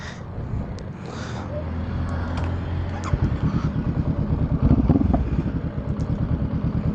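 An inline-twin Honda CBR500R motorcycle engine idles close by, a low, throbbing rumble that grows more pulsing and slightly rougher partway through, with a few faint clicks over it.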